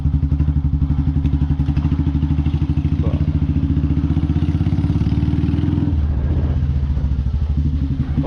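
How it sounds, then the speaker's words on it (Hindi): A 2024 Royal Enfield Classic 350 single-cylinder engine thumps steadily while being ridden, a close, loud and even low pulse that shifts in pitch about two thirds of the way through as the rider changes speed. "तो आप साउंड सुन ही रहे होंगे बाइक की।"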